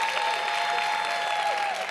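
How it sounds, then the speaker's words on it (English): Loud, continuous clapping from an audience fills the short stretch without a break. "Clap it up for Tanisha."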